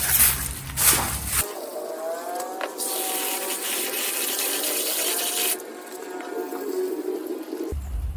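Rice grains being rinsed and swirled by hand in a basin of water, with sloshing and a steady watery rush in the middle, close and fairly loud, with no talking.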